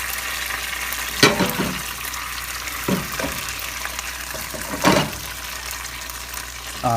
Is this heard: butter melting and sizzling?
yes